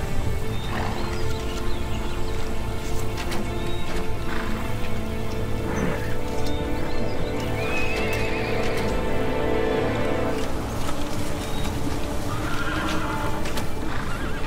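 Horses in the fantasy battle game Battle for Middle-earth neigh and whinny loudly over a continuous rumble of galloping hooves, a dense, steady cavalry charge with no talking.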